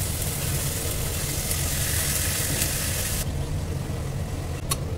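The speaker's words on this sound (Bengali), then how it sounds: "সব কিছু দিয়ে এইবার আমি মটর কড়াইটা, ভেজানো মটর কড়াইটা আমি এর মধ্যে দিয়ে দিলাম" Soaked dried peas tipped into hot spiced oil in a pan for a vegetarian ghugni, raising a loud, steady sizzle that fills the clip, easing slightly toward the end with a brief clink near the close.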